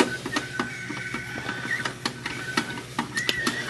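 Busy mechanical clatter of a Roland Space Echo tape echo unit, with rapid clicks, whirring and a faint squeal running steadily throughout, close and moderately loud.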